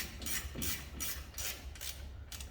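Ratchet wrench turning a bolt during front wheel hub replacement on a 2019 Ford F-150 4x4, a steady series of fast clicking ratchet strokes in regular rhythm, close and clear.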